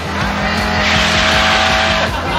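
A car skids sideways across the finish line on a test track, its engine revving hard under a loud tire squeal that builds and fades over a couple of seconds.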